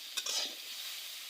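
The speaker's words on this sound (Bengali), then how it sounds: "কিছুক্ষণ নেড়ে চেড়ে ভেজে নিব।" Mustard greens fry in a pan with a soft, faint sizzle, punctuated by a few light utensil taps as they are turned over. No speech.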